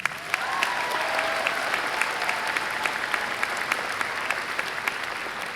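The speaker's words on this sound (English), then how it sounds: "let's give him a round of applause." A graduation commencement audience applauds steadily for an absent graduate, a dense wash of clapping with sharp individual claps standing out, sustained and fairly loud throughout.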